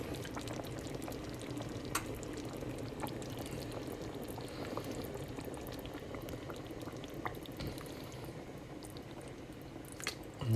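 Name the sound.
pouring tomato juice into vegetable beef soup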